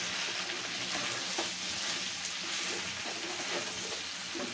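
Thick-cut onions frying in a pan, a soft, even sizzle and hiss held at low volume throughout, close by and with no voices.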